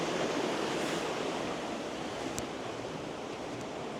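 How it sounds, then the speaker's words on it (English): The main waterfall in Glenariff Forest Park rushes in a steady, loud, broadband roar that stays constant throughout with no one speaking. "you get the noise of the water"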